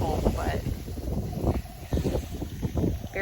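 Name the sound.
wind outdoors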